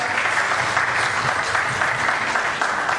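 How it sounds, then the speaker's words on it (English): A corporate awards ceremony audience gives a round of applause, with thick, continuous clapping from a large crowd at steady loudness throughout. "Round of applause to Mr. Deepak."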